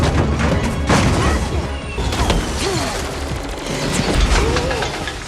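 Gunfire and crashing impacts from an action movie scene in Furious 7, loud bursts and smashes tumbling over one another amid dense chaotic noise.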